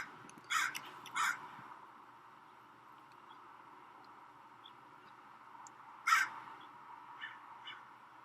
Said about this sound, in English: I hear that little, I think it's a hawk.